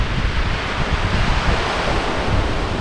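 Small ocean waves wash onto a beach on Île de Ré, a steady broadband rush of surf with some wind noise, close and continuous with no talk.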